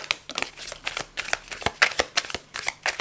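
A new, still-slippery tarot deck is shuffled by hand, producing quick papery riffles and soft flicks in an uneven rhythm, close and clear with no talking.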